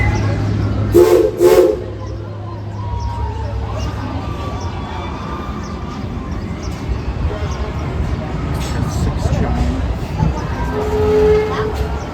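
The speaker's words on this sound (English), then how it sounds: "2 toots of the whistle told us it was time to go." Steam locomotive CP&LE #44 Judy K in Sandusky sounds two short, loud whistle toots close together near the start, followed by a low, steady rumble of the engine at rest.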